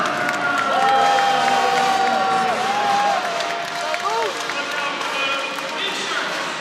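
A home crowd cheers and applauds at a college wrestling match in Reynolds Coliseum, Duke against NC State, a broad roar of voices with whistles and shouts carrying across the arena, swelling early then easing.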